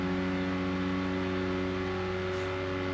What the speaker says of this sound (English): All I hear is engine going, ah, full volume.